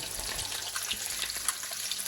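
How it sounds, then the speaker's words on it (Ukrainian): Crucian carp coated in corn flour fry in a pan, giving a soft, continuous sizzle with light crackles and pops. The sound is close and fairly quiet, with no speech. "Отак рибка смажиться до готовності."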